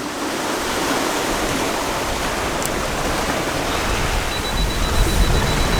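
Sea waves rolling in at the shore at Mousehole, Cornwall: a steady, loud broadband roar of surf and wash that holds without a break, with no voices.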